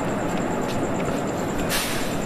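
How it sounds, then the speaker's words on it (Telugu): The Seshadri Express, a daily ICF-coach passenger train running from Kakinada Town to Bengaluru, rumbles past at a port, loud and steady, with a brief hiss near the end. "ఇది శేషాద్రి ఎక్స్ప్రెస్."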